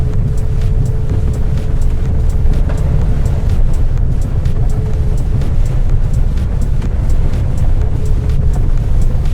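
Elwinn Nex electric car driving over a rough, bumpy road, with a steady loud low rumble of tyres and road noise plus a faint whine, continuous throughout and no talking.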